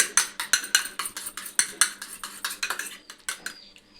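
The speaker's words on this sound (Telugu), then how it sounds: "కొట్టి పోసుకుందాం ఇది మంచిగా కలపాలి ఎగ్గుని" A spoon beats eggs in a bowl for an omelette, making a fast, rhythmic run of sharp clinks and taps, close and fairly crisp, with no talking.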